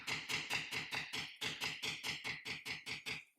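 Rapid, regular tapping strikes shaping beveled edges on leather flower stems with an acrylic template, about a dozen crisp, close, evenly spaced hits in quick succession with no talk.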